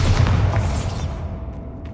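A Bombarda blasting spell explodes in Hogwarts Legacy, one loud booming blast with a heavy low rumble that fades into a quieter tail, no talk.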